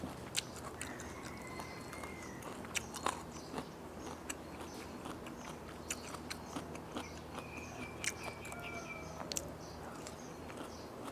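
Candied pickled lime from a convenience store bitten and chewed close to the mic, soft repeated crunchy bites and wet chewing in an uneven rhythm over faint background bird chirps.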